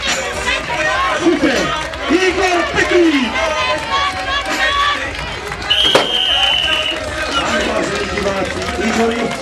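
A large crowd at a strongman competition, the 2016 Strongman World Cup, roars and cheers steadily for the whole stretch, with a sharp whistle partway through and loud babble of voices mixed in.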